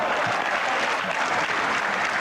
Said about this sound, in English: The crowd roars their approval for that shot